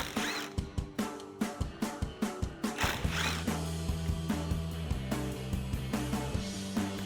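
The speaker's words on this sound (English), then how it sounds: "Grab your 10mm socket and remove them." A 10mm socket wrench ratchets steadily on the bumper support bolts of a 2013-2018 RAM 1500, with quick, even clicks close up, then a lower whirring run.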